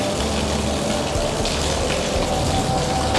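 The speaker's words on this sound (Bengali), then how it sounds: "বৃষ্টি হচ্ছে, শুধু বৃষ্টি না, বলা যায় যে কালবৈশাখী ঝড়" Heavy rain from a nor'wester storm at Zahur Ahmed Stadium, a dense, loud, continuous roar of pouring water with no break and no voices.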